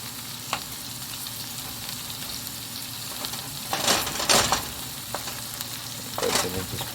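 Turkey mince and onions with curry leaves and green chili frying in a pan, a soft continuous sizzle broken by a few louder bursts of stirring and scraping, close and moderately quiet, with no voices.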